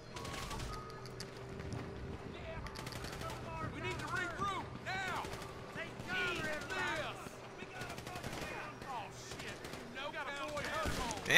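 Grand Theft Auto V gunfire, including a combat pistol, sounds as scattered shots under busy game noise and chirpy ambient sounds, with someone talking over it.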